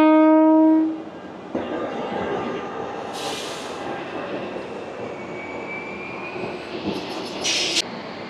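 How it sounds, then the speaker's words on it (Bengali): The Amrit Bharat Express from Malda Town to Gomtinagar pulls out of Jamalpur Junction with a long, loud horn blast at the start, then a steady rumble of rolling wagons and a few sharp hissing bursts. "জামালপুর জংশন স্টেশন থেকে ট্রেনটি ছেড়ে যাচ্ছে তার পরবর্তী হল্ট স্টেশনের দিকে"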